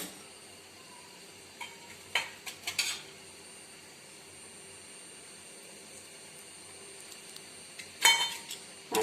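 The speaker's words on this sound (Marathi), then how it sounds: "मी इकडे एका बाजूला रवा भाजून घेत आहे आता थोडंसं यामध्ये मी तूप टाकणार आहे" Semolina (rava) roasting in ghee in a pan over low heat for rava laddu, with a faint sizzle and a few scattered metallic clinks of a spoon against the pan.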